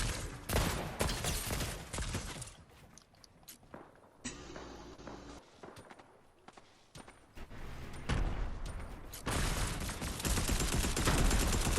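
A suppressed submachine gun fires in a video game firefight, with rapid bursts of muffled shots broken by a short lull and then picking up again, close and loud amid scuffling movement.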